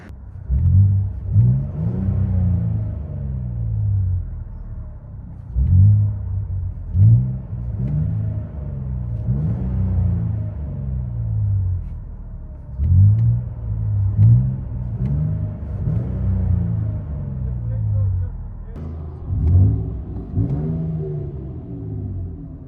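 A deep V6 exhaust on a 2021-2026 Nissan Frontier 3.8L mid-size truck rumbles from inside the cabin, rising in repeated throaty revs and settling back between them.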